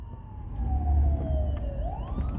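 An emergency vehicle siren wails behind a driver's car in city traffic, a long falling then rising tone over low engine and road rumble, fairly clear and close.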